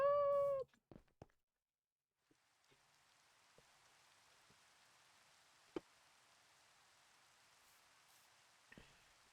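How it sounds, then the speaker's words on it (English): Light rain in Minecraft makes a soft, even hiss that runs for several seconds after a short meow-like call and a few clicks at the start, with occasional faint taps on top. "that was the shortest little rain ever"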